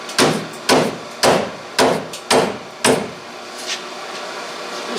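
Six sharp hammer blows ring out against the exhaust pipe of a 2012 Ford F150 during a dual exhaust install, spaced roughly half a second to a second apart, each with a short metallic decay, then a quiet tail.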